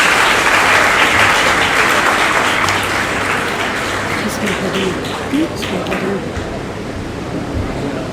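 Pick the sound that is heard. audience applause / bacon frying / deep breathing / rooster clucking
audience applause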